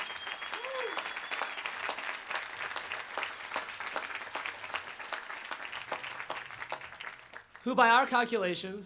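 Audience at a 2011 new student convocation gives a sustained, dense round of applause for orientation volunteers, steady clapping for most of the stretch before a voice begins speaking near the end.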